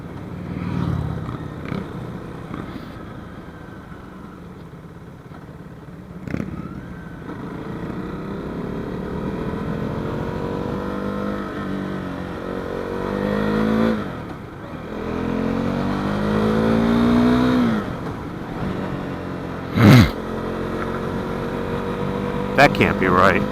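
A KTM Duke 390 motorcycle engine drones steadily while riding, its pitch rising and falling with gear changes and revs over about twenty seconds, with wind rush and a few louder bumps.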